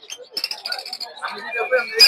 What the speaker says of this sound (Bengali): হচ্ছে জাবা পাখি